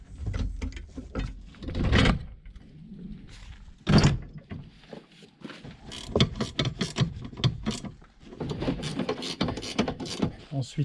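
Wrench turning on a leaf spreader's mounting bolts, a series of short metallic clicks and ratcheting bursts close by, with intermittent speech mixed in.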